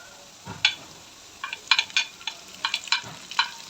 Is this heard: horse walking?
no